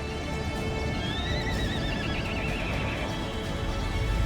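Wild horses in the Wyoming desert whinny in a long, rising and falling neigh, with hoofbeats clopping continuously underneath in a busy, close outdoor scene.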